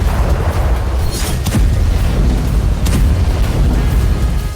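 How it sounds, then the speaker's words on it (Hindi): Bombs dropped by Israeli aircraft on the Al Jabal and Hula areas of southern Lebanon roll out as loud, continuous rumbling booms, dense low thunder swelling in waves. "बमबारी से लेबनान दहल गया।"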